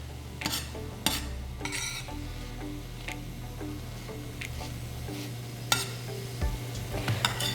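Greens cooking in a pan for veggie pesto penne pasta, a steady low sizzle with a few sharp utensil clacks and scrapes scattered throughout, no talking.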